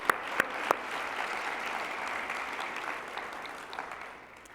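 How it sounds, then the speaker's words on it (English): Audience applause at the HDSA annual convention opening ceremony, a steady wash of many hands clapping in a large hall, with a few sharp nearby claps at the start, fading slightly toward the end. "Let's give Jenny another round of applause"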